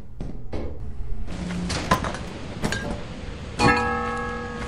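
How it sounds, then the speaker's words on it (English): A brass bell in the video game Lethal Company rings out with several sharp metallic strikes and lingering tonal rings, the last one loudest and sustained, over a busy in-game background. "Oh, brass bell makes a new sound."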